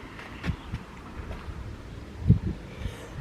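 Wind gusting across the microphone in soft, low rumbles, with a few brief thumps and no talking.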